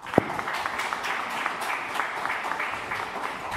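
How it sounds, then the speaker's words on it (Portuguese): Councillors and attendees applauding during an ordinary city council session, a moderately loud spread of claps with distinct individual hand strikes standing out through the run. "vocês merecem hoje o nosso aplauso por tudo aquilo que vocês têm feito pela nossa cidade"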